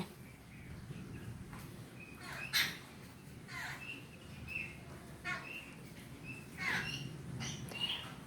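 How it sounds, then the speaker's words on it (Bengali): Faint birds chirping, including bulbuls and mynas, scattered short high calls over a low background rumble, a few louder chirps standing out. "বুলবুলি এসছে, আর এটা কি 7 ভাই পাখি নাকি শালিক এসছে, 3 রকমের পাখি এসছে।"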